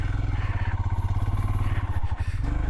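An adventure motorcycle rides along a dirt road in southern Utah, its engine a loud, close, steady pulsing rumble with gravelly rattle and wind noise throughout.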